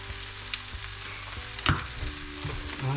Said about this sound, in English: we'll give it another quick stir here